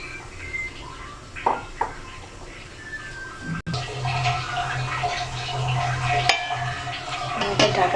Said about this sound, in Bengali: আর দিয়ে দেবো একটু পানি ভালোভাবে সিদ্ধ করে নেওয়ার জন্য।